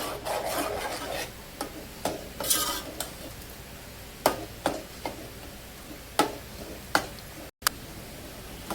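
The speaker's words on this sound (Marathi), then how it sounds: "पालकला 2 मिनिटं तेलामध्ये भाजून घ्यायचंय।" Spinach frying in oil for green moong dal gives a soft sizzle beneath repeated scraping and stirring strokes of a utensil against the pan, irregularly spaced and close.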